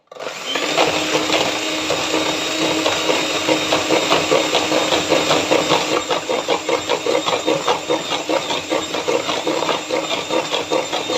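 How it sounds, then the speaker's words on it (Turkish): Electric hand mixer whisking cake batter in a bowl, a loud continuous motor whir with a rhythmic pulsing churn, running steadily close up with no talking. "Önce düşük ayarda sonra yüksek ayarda mikserimle güzelce çırpacağım."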